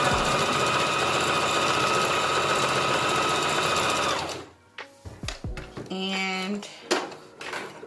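A sewing machine stitches a wig track, running steadily and loud for about four seconds before stopping, followed by clicks, handling noises and snipping sounds as the track is cut.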